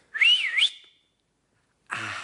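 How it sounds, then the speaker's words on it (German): A lone whistled tone that glides up and down in a wavy pattern for about half a second, followed by silence and a short burst of breathy noise. "Soll ich mal pfeifen?"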